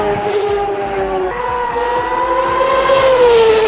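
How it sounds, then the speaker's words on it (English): A Formula 1 car engine in the F1 2009 racing game mod screams at high revs, stepping through gear changes as pitch drops and climbs again, loud and up close with no voices. "Listen to that car. Drop a gear, round the corner, on the boards, much better."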